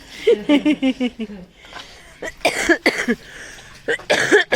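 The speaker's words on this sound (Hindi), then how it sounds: "मेरे को तो खांसी हो गई" A woman coughs several times at a home gathering, the coughs coming in short bursts mixed with laughter-like sounds and brief voices, close and fairly loud.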